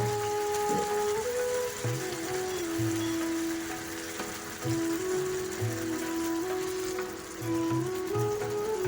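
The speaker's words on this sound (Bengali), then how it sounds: "আর মাছের পিসগুলো আমি এর মধ্যে দিয়ে দেব।" Rui fish pieces and green and red chillies added to well-fried masala, giving a steady rain-like sizzle under continuous melodic background music.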